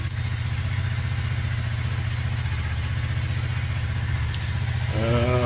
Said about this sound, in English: bike's running in the background, just warming it up for the oil change